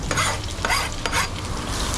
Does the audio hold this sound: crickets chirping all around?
no